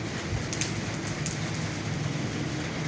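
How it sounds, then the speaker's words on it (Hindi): Two kilograms of black chickpeas roast over heat in a village kitchen, giving a dense, steady crackle and hiss with faint rattling, continuous and fairly soft, with no voices. "चने भुने जा रहे हैं।"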